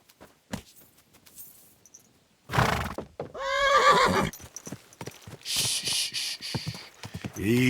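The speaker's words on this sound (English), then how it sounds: "Easy, good horse." A horse in the Kingdom Come Deliverance 2 video game whinnies loudly at close range, followed by hoofbeats and more snorting as it moves.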